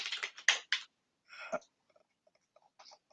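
A computer keyboard clatters in a quick burst of keystrokes, followed by a short pause and a few scattered, fainter taps. The typing is quiet and close, with no talking.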